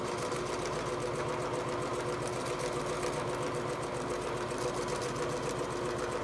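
A sewing machine runs steadily while back stitching along the presser foot edge of a photo pillow, a quiet, even mechanical whir with a fast needle patter, continuous and close, with no voices.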